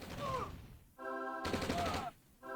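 Turret gunfire in OpenRA Red Alert, rapid bursts of shots in two clear volleys separated by short pauses, faint and set against a quiet battlefield.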